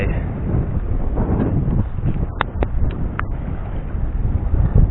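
Strong wind buffets the microphone aboard a small fishing boat off the Gulf of Thailand coast near Cha-am and Hua Hin under stormy, overcast skies, a steady loud rumble with a few brief high clicks, no talking.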